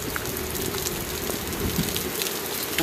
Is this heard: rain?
yes